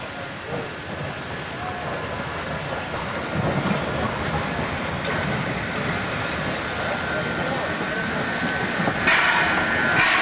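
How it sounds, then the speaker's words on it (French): Harz narrow-gauge steam locomotive 99 6001 rolls into a station on the Gernrode line toward the Brocken, a steady mix of rumbling wheels, hissing steam and rail clatter that holds fairly even and grows slightly louder near the end. "le train en provenance de Genrode pour Stigue et Brocken entre en gare"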